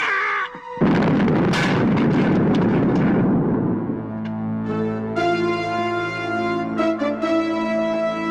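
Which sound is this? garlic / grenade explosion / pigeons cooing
grenade explosion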